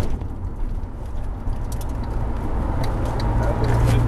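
A Porsche GT3 engine on a race circuit gives a steady, close interior roar that swells slightly toward the end, with a voice talking over it.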